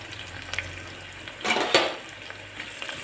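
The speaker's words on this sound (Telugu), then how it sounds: "ముందుగా ఆయిల్ వేసుకొని జీలకర్ర ఆవాలు వేసినాను, ఆనియన్స్ కరివేపాకు వేస్తున్నా" Onions and curry leaves dropped into hot oil with cumin and mustard seeds, a loud sizzling hiss in the middle with quieter crackling before and after, close by and without talk.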